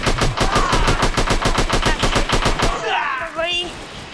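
Rapid automatic gunfire rattles in the video game Online Strike, about twenty evenly spaced loud shots in a burst, then a short tail of lighter in-game effects.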